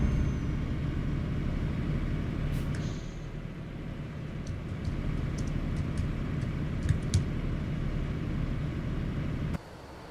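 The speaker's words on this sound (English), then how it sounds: "How many trucks are in this convoy?" A convoy of trucks rolls along in Euro Truck Simulator 2, a steady low engine rumble and road hum with a few faint ticks and a short hiss partway through, then cutting off near the end.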